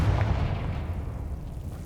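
Confringo blast spell cast in Hogwarts Legacy, a booming, rumbling burst that opens loud and fades slowly over nearly two seconds, with no voices present.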